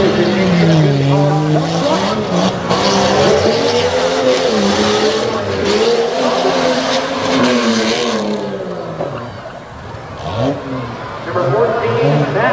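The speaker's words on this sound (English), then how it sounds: "as we get ready to go back to Renegade Tough Truck Racing" A tough truck makes a racing run at a Renegade event in Abbottstown, Pennsylvania, with its engine roaring and revving hard through rising and falling gear pulls. Tires squeal, and a loud, close, continuous drone dips briefly near the end.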